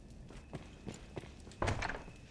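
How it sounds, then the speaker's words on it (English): Guards in Dragon's Dogma: Dark Arisen walk with a series of faint, spaced thudding footsteps, ending in a louder, heavier cluster of steps. "Don't like the sound of those footsteps."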